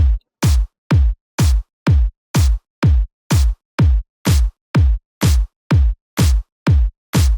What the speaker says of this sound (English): it's actually just a pre-shifted clap or pre-shifted snare that I cut out